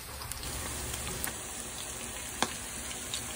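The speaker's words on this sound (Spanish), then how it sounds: "ahí estoy dorando mis taquitos" Chicken flautas, rolled tacos, frying in hot oil, giving a steady, even sizzle and crackle throughout with a few small pops, close and alone.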